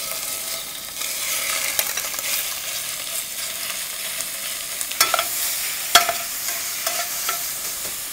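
Pork frying in an oiled pan gives off a steady close sizzle and hiss, with scattered sharp spits and pops from the hot fat.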